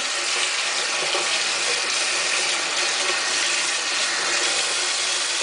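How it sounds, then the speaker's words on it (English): Freshly dug onions and potatoes washed under running tap water, a loud, steady, close rush of water spraying and splashing without pause. "So I'm just going to wash them quickly."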